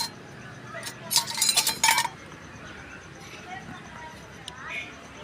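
Chicken marinade for Chettinad chicken varuval mixed in a bowl and covered, with a quick cluster of bright metallic clinks and clatters in the middle, then quiet room tone with a faint tap.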